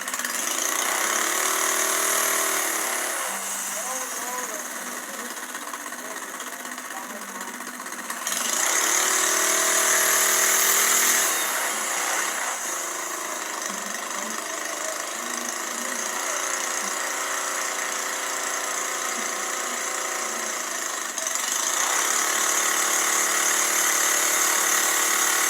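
A small mini engine screams at high RPM under a torque test, a loud, steady whine with a couple of surges and dips in load, close and continuous.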